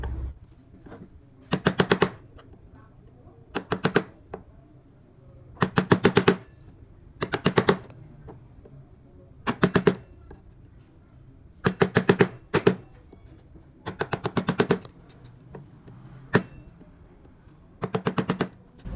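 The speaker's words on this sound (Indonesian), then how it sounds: "yang ini tengah ini kita rapikan menggunakan pahat kol ini" Rapid clusters of sharp taps drive a gouge chisel through wood during traditional carving, the bursts coming in regular groups separated by brief quiet gaps, close and crisp.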